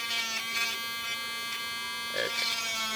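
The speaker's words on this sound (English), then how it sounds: "this is just a hobby Dremel that I got from like Michael's" Small hobby Dremel rotary tool running steadily with a high, even electric whine and buzz, close by, while someone talks over it.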